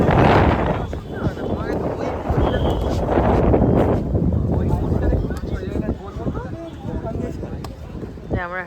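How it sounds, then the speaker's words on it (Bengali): Strong wind blows at a stand outdoors, roaring and buffeting the microphone loudly throughout while people talk over it. "প্রচন্ড হাওয়া দিচ্ছে"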